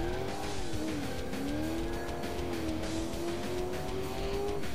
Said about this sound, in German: Wenn man in der Kurve schon zu früh Gas gibt, dann dreht es einen wirklich komplett raus.